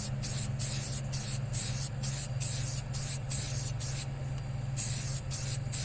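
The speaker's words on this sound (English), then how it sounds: "I always do a test spray." Short hissing bursts of aerosol spray paint on a tumbler cup repeat in quick succession, each a few tenths of a second, over a steady low hum.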